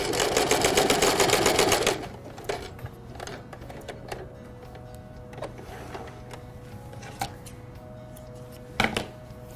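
A sewing machine with a felling presser foot stitches a flat felled seam, a loud rapid run of needle clatter for about two seconds, then stops, followed by scattered quieter clicks and fabric handling noises.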